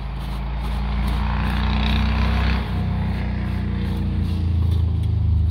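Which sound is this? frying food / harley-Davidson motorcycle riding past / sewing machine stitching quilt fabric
harley-Davidson motorcycle riding past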